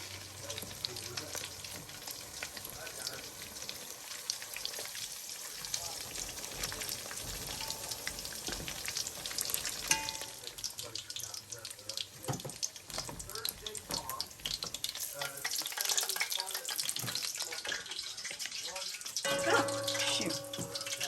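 Filipino lumpia frying slowly in oil, giving a steady, dense crackling sizzle that runs throughout at moderate level, with occasional clinks and stirring and a voice talking over it at times.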